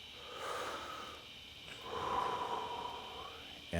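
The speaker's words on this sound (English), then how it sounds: "Take a deep breath in" A slow, deep inhalation during a guided heart meditation, heard as two soft, drawn-out breathy swells close to the microphone, with no talking over it.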